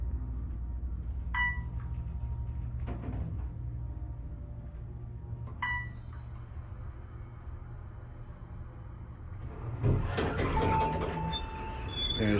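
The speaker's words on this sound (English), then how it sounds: "There's the monorail." The Las Vegas monorail passes the Flamingo station at night, a low continuous rumble with faint squeals, swelling into a louder rattling, screeching rush near the end.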